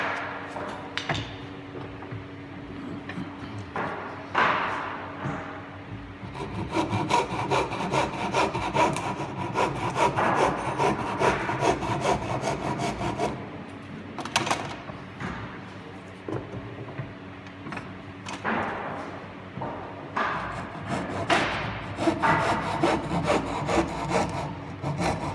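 Hand saw cutting timber for a hip roof rafter: rhythmic rasping push-pull strokes, close and moderately loud, in several runs separated by brief pauses and a few knocks, with no talking.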